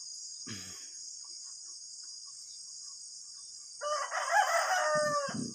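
A rooster crows loudly at a chicken coop beside a stilt house in a transmigration village, one long cock-a-doodle-doo near the end over a steady high insect buzz, with a brief cluck early on.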